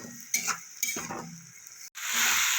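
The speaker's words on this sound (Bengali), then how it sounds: "একটু কাশ্মীরি লঙ্কা গুঁড়ো নিয়ে সব কিছু ভালো করে কষিয়ে নেব।" Spices cooking with Kashmiri chili powder in oil for a vegetarian broad bean and potato dish: a few spatula scrapes against the pan, then a sudden, steady, close sizzle.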